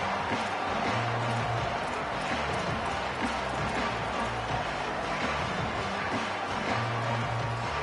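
Steady roar of a large football stadium crowd at a Michigan vs Tennessee game, a dense, continuous wash of voices that holds loud and even throughout with no single sound standing out.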